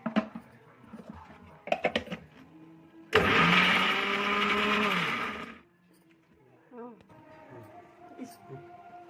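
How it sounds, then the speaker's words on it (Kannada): A kitchen mixer grinder whirs loudly for a couple of seconds, grinding masala in its jar for a village-style country chicken curry, then spins down; quieter clatter and handling noises come before and after. "ಎಲ್ಲ ಜಾರ್ಗೆ ಹಾಕಿ ಮಿಕ್ಸಿ ಮಾಡ್ತಾ ಇದ್ದೀನಿ"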